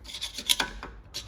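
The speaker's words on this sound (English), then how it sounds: "I'm just cleaning all the excess pad material, rust and crap off it" Rust and leftover pad material being scraped off the brake pad strips of a 2005 Subaru Impreza with Brembo brakes: short, close rasping strokes in quick irregular bursts.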